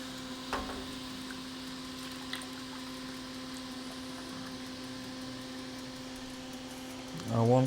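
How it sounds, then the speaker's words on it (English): A home ice cream machine churning vanilla ice cream, a steady mechanical hum with a constant motor tone and small clicks, before a voice speaks at the end. "We're just going to pour this straight in here and get it churning."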